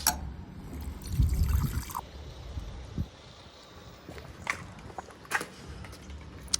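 Water pours into a glass in bright outdoor heat, a low gurgling burst in the first two seconds followed by scattered drips and small splashes against faint background noise.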